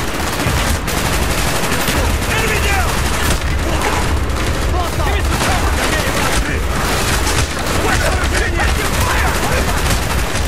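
Dense, continuous gunfire from Call of Duty Black Ops, with rifle volleys and machine-gun bursts layered under shouted commands, loud and sustained throughout.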